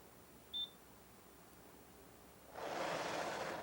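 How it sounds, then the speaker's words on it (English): A single short, high electronic beep from a Brother KH-930 knitting machine buzzer sounds in a quiet room, followed later by a soft rushing hiss. "When the buzzer sounds 1 row before finishing the pattern with row number 40 flashing, change 2 keys."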